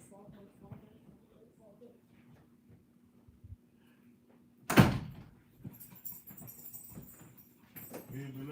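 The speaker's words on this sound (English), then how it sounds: "Shut my bathroom door." A bathroom door shuts with one sharp, loud bang partway through, with faint talking and household noise around it.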